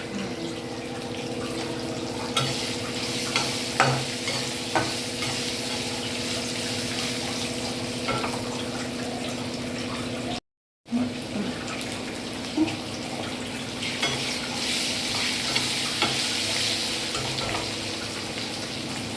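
Garlic, coriander and grated radish sizzling in a pan for radish chutney, a steady hiss with occasional stirring clinks and a brief gap partway through, no talk.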